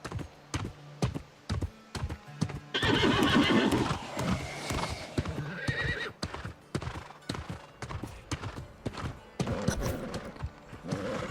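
A horse in the video game New World neighs loudly in a long whinny, surrounded by repeated sharp hoof clip-clops and clicking, close and clear, with no speech.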